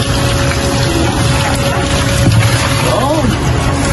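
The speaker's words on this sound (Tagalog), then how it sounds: "Ngayon, lalagyan natin ng tubig ngayon, technique to para mabilis siyang linisin." Water pours into a dirty fryer during cleaning: a steady, close rushing and churning wash of liquid that runs throughout, with a voice briefly heard near the end.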